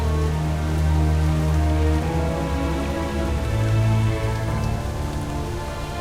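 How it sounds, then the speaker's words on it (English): Rain pours in World of Warcraft at Exile's Reach, a loud steady wash of drops on surfaces with a constant hiss and low rumbling undertones, with no voices over it. "That's odd. We weren't expecting rain."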